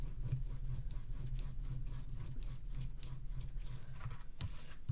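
Paper is burnished down onto a page of an ocean-blue Graphic 45 mini album, giving a quiet, close rubbing and scraping made of repeated short strokes.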